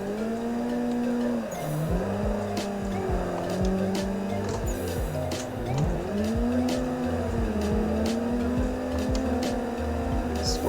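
Drift car entering a corner in third gear with a clutch kick, its engine revving and droning loudly while tires squeal in long sliding wails, steady and close throughout.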